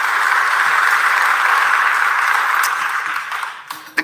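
A church congregation at Grace applauding, a dense, steady wash of many hands clapping that holds loud for about three seconds, then thins out and stops.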